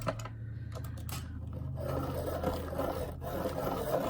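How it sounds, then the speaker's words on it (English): A coloring pencil being sharpened, a continuous close rasping scrape of wood grinding against a blade, steady throughout with a low hum beneath it. "I have to sharpen this pencil."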